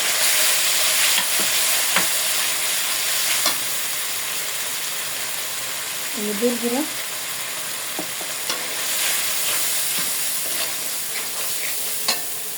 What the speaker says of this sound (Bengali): স্বাদ মতো লবণ মশলা একটু কষায় নেব পাঁচ মিনিটের মতো মশলাটা কষাতে হবে